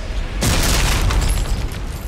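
Harpoon cannon firing in Dead Space 3, a single loud heavy boom that cuts in abruptly and then rolls on as a broad roaring blast, fading slowly.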